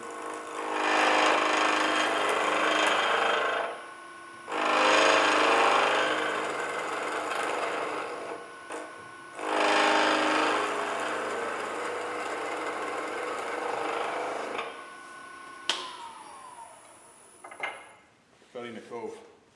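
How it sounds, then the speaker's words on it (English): Wood turning on a lathe, a skew chisel cutting a bead: a sustained scraping, hissing cut repeats in long passes with brief pauses, ending with the machine winding down. "cutting a bead, and as you can see with that cut"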